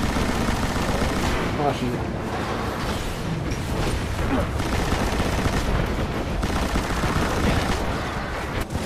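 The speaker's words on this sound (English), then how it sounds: "I'm about to let my rifle burst in" Rifle burst fire in the video game Destiny rattles out in dense, loud, continuous volleys with booms and mechanical clatter throughout, while a player's voice briefly exclaims over the gunfire.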